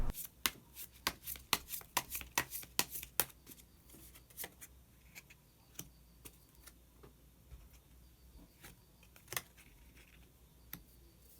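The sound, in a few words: tarot cards being shuffled and drawn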